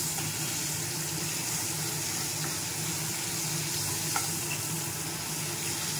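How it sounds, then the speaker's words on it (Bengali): Fish fat frying in a pan at home, a steady continuous sizzle with faint clinks, alone without talk. "মাছের তেলটা ভাজছি।"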